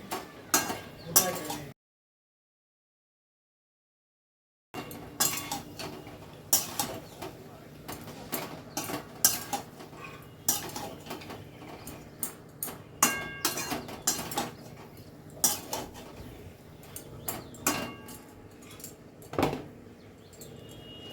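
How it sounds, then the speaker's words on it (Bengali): A utensil scrapes and clinks against a pan as fried potatoes and sliced onion are stirred together, giving irregular metallic taps and scrapes close by, with a brief silent gap early on. "ভেজে রাখা আলুটা দিয়ে দিলাম আর দিয়ে দেব কেটে রাখা পেঁয়াজ কলিগুলো। সব কিছু ভালো করে মিশিয়ে নিচ্ছি।"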